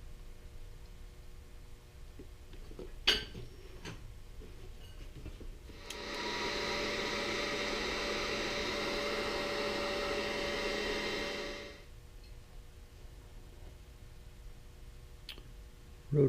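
A heat gun blows steadily for about six seconds while shrinking heat shrink tubing during repair of a Red Lion Rotor Tech, a soft even rush starting and stopping abruptly amid faint clicks and handling noise.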